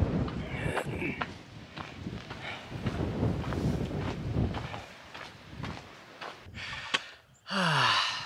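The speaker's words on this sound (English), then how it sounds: "It's super windy, super cold." Strong, cold wind gusts across a mountain hillside on the Pacific Crest Trail, roaring and buffeting the microphone in uneven surges, with faint footsteps and breathing underneath.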